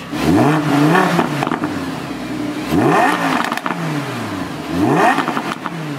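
An Audi R8 RWS V10 engine in dynamic mode revs hard three times in quick succession, each rising roar followed by crackling exhaust pops, loud and close.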